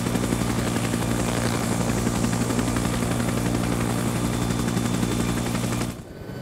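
Huey transport helicopter in the combat game Arma 3, its steady rotor thump and turbine drone loud and close, with bursts of machine-gun fire mixed in, cutting off abruptly near the end.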